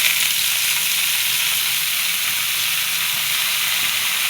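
Greens frying in hot oil spiced with cumin, a steady loud hissing sizzle that holds evenly throughout.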